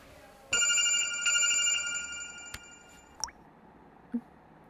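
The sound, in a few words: mobile phone ringing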